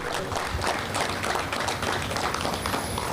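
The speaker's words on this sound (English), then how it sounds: "Give yourselves a strong round of applause for that remarkable." Audience applause at a Rotary Club flag dedication ceremony in Wilmington: a steady, fairly dense patter of many hands clapping for a few seconds without a break.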